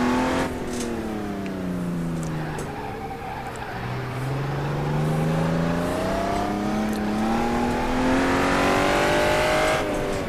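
A Honda NSX laps the tight Buckmore kart circuit, its engine note sinking as it lifts off through a bend, then climbing steadily and loudly as it powers back out, close and continuous.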